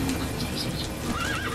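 A horse in the video game Metal Gear Solid V: The Phantom Pain whinnies in a short, rising neigh over steady background noise, with faint hoof clopping mixed in.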